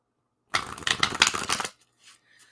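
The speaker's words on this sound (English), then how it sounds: "So let's just throw some cards down for that." Playing cards are tossed down onto a surface in a quick flurry of dry slaps and shuffling flicks for about a second, followed by a few faint rustles.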